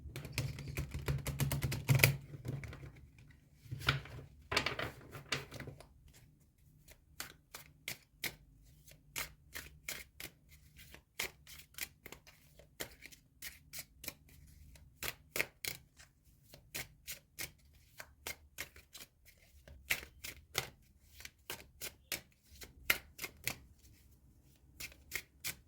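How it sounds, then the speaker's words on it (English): Tarot cards being shuffled close up, a rapid flurry of crisp riffles and slaps at first, then a long run of light, irregular card taps and flicks, with no talking. "I'm going to shuffle now for the rest of your cards"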